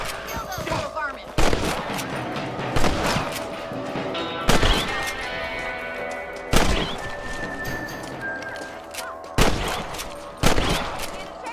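Rifle gunshots ring out while hunting rabbits in Red Dead Redemption, about six sharp loud cracks spaced irregularly every one to two seconds, each with a ringing tail, over game ambience and horse sounds.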